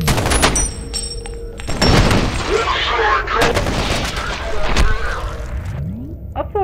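Assault rifle fire in the video game F.E.A.R.: repeated loud bursts and single sharp shots with booming impacts and debris across the scene, dense and close.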